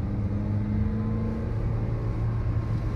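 Toyota Innova Hycross 2023 base model climbing an uphill section in third gear, a steady moderate engine hum with a sustained low tone and road noise, fairly quiet and without talking.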